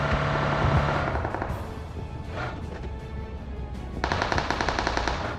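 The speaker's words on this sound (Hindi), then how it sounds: "यहाँ से गोली चलने की आवाज़ आती है" Automatic gunfire in the mobile battle royale game PUBG/BGMI rattles in rapid bursts, with a stretch of sustained fire near the start and another dense burst toward the end, loud and without speech.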